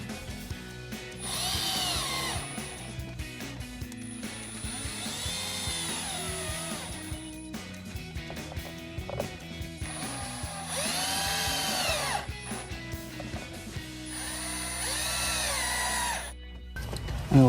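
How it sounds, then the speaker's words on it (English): A power drill drives screws into a matte black HDPE rear diffuser on a 2018-2023 Mustang GT, giving four whirring bursts of a few seconds each, close and fairly loud, with short pauses between them. "now we're gonna get your drill and the black head screws"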